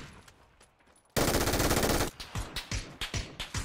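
Video game gunfire: a quiet stretch, then a loud sustained automatic burst for about a second, followed by a series of separate sharp shots at an uneven rhythm.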